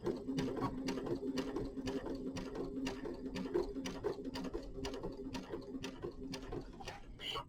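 A sewing machine stitching binding onto a quilt, a steady run of evenly spaced mechanical needle clicks and a low motor hum, fairly quiet and close, without talk.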